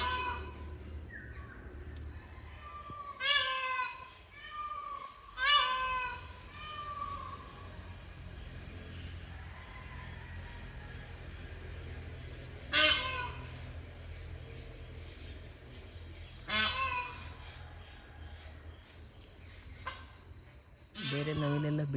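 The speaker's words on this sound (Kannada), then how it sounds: "ನವಿಲು ಕೂಗ್ತಾ ಇದೆ ಇವತ್ತು." A peacock calling outdoors in a village after rain, loud, repeated harsh cries spaced a few seconds apart, with faint insect and bird sounds in the background.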